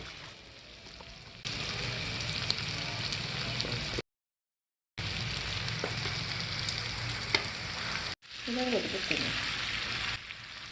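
Boiled pasta and chicken sausage are stirred in a sizzling pan, a close steady frying hiss broken by brief silent gaps, with spatula scrapes and a short burst of voice near the end.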